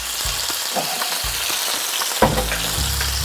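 Hen of the woods mushrooms fry in a pan, a loud continuous crackling sizzle broken by a few soft low thumps and a sharper knock partway through.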